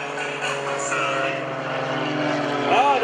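Iron Eagle aerobatic propeller airplanes fly at an airshow, their engines droning steadily with a rising, shifting pitch as they manoeuvre, moderately distant and continuous.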